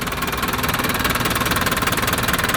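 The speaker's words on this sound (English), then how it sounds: "The diesel engine runs nice." A 1979 Toyota Land Cruiser 40 series diesel engine idles steadily, with a loud, even clattering knock repeating rapidly up close and nothing else audible.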